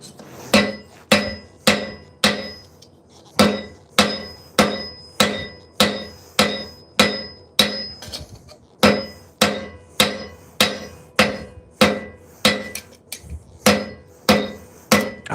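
A hammer strikes steel on an anvil while forging claw teeth, sharp ringing blows in quick bursts of two to four with brief pauses between, loud and close, with no talk.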